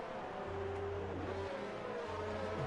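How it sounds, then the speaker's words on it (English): A Formula 1 race car engine in the F1 2019 racing game at the Spain round drones at high revs, shifting pitch through gear changes in a steady, continuous whine. "I can hear the engine sounds now"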